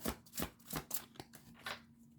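Tarot cards being shuffled by hand: a series of quick papery riffles and taps in an uneven rhythm, close and fairly soft, with no talk.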